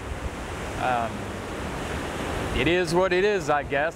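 Ocean surf on a Texas beach rolls in as a steady, loud wash with wind buffeting the microphone, and someone speaks briefly over the waves near the end.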